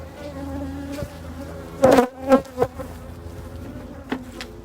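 Honey bees buzz near a beehive as a beekeeper with a smoker and tools walks away, a steady close droning hum with a few louder bursts as insects pass near.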